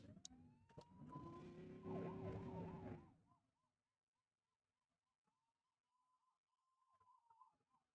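Police car siren from a police video game, wailing loudly for about three seconds, then cutting to quieter, repeating electronic chirps and tones without any talk.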